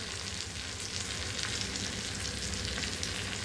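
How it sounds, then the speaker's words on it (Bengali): Potato ghugni curry frying with ground coriander and cumin, giving a steady, close, hissing sizzle with faint stirring underneath and no voices. "দিয়ে এটাকে ভালো করে মিক্স করে নেব"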